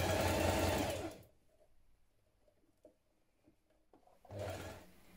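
A sewing machine stitches a double-folded hem on a blouse in two loud, close bursts, one at the start and one near the end, with quiet fabric handling and small clicks in between.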